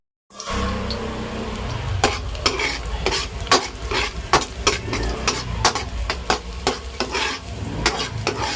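Adobo sizzles in a frying pan while a utensil stirs it, making repeated sharp scraping strokes in an uneven rhythm over steady frying noise at close range, with no talking.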